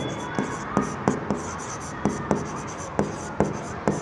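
Pen writing on paper: rapid scratchy strokes, close and quiet, broken by regular sharp taps as the tip lifts and lands, about two per second, with no voice over them.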